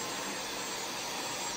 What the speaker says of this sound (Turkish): Evi süpürüyor.